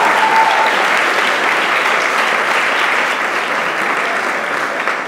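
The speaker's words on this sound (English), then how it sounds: "a big round of applause" A lecture audience gives sustained, even applause at a music education talk, a steady dense wash of clapping lasting the whole stretch with no voices on top.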